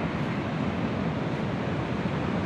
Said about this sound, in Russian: вот река могучая